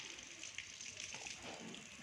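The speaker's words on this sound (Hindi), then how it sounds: "और यहाँ से पानी निकलेगा गर्म।" Hot water from a water heater pipe gushes and splashes in a continuous faint stream, quiet and somewhat distant.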